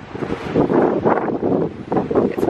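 Gusty wind buffets the microphone in uneven, rumbling bursts, close and fairly loud, with no other clear sounds, on a cold day in Paris.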